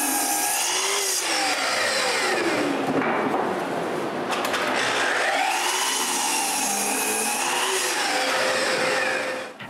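A power tool cuts wooden blocks to width for a wooden tripod, a loud continuous whine rising and falling in pitch as each pass is made, with no talk.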